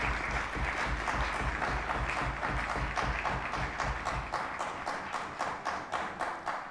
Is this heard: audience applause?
yes